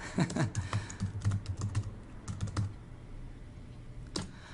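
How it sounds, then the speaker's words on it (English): Fingers tap out bursts of quick keystrokes on a computer keyboard, close and soft, pausing midway before a final key press. "I can't talk and type at the same time"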